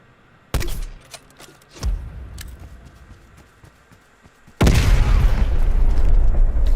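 A weapon shot in Black Ops Cold War on the Satellite map, a sharp loud crack followed by a second boom, then a sustained loud roaring explosion burst near the end.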